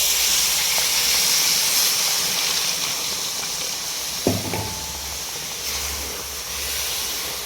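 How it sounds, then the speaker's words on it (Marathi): Water poured into hot masoor curry in a pan hisses steadily like steam, and a brief clatter from a utensil breaks in midway. No one speaks. "याच्यामध्ये आपण थोडं पाणी घालून घेऊ"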